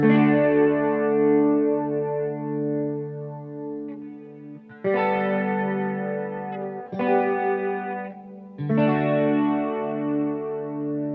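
Electric guitar chords strummed one after another, each left to ring and decay with a spacious, lingering tail before the next.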